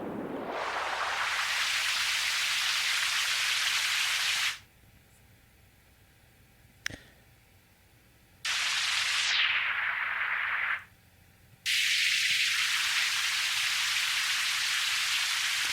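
Synthesized noise made in Ableton to mimic trickling water, heard as loud hissing, rain-like bursts that start and stop abruptly, with near-silent gaps and one sweep that fades downward in pitch.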